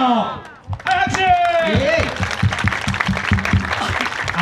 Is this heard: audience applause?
yes